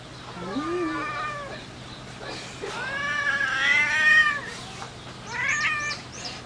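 A lazy cat meows and caterwauls in several drawn-out, wavering calls, close and fairly loud, with short pauses between cries and a low background hum.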